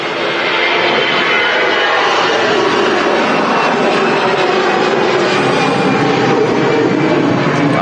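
A jet taxis out at Manchester Airport in the evening, its engines producing a loud, continuous broadband roar that holds steady throughout without speech.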